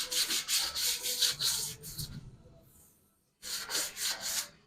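Wood sanded by hand with close, scratchy back-and-forth strokes in a quick rhythm, pausing briefly before a few more strokes resume.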